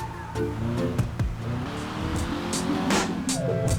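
The Euros X32 car drives in GTA Online with a steady engine drone, some tire noise and sharp impact thumps, alongside game sounds and no talk.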